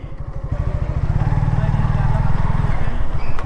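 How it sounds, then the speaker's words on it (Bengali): A motorcycle engine runs close up while being ridden toward a suspension bridge at Kaptai Lake in Rangamati, giving a steady, loud low rumble with a rapid pulsing firing rhythm that holds throughout. "এইখানে বাইকটা পার্কিং করব।"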